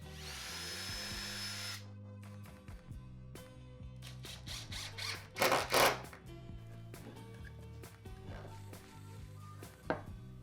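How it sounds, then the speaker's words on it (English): A power drill pre-drilling a hole in a softwood board whirs briefly at the start, then gives way to clicking, rattling and handling noises, with a few short bursts of bit grinding. "take a drill with a drill bit and pre-drill their hole"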